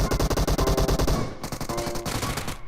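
Rapid automatic gunfire in the mobile battle royale game PUBG Mobile, loud and close, with a steady burst of shots followed by a second, sparser burst, no talking over it.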